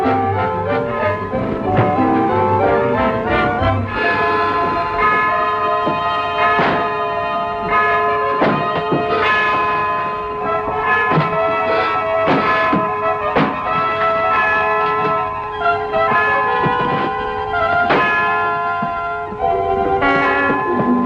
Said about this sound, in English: What's that? The church bell.